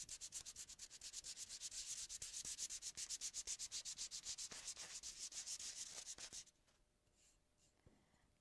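Wood being hand-sanded with 220-grit sandpaper for a decoupage project: fast, steady back-and-forth rubbing strokes, close and bright, run for about six seconds and then stop, leaving quiet handling noise.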